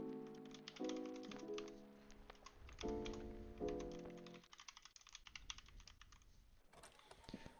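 Code being typed on a computer keyboard in Roblox Studio, with quick clusters of soft key clicks, close and quiet, over tonal music that fades out partway through.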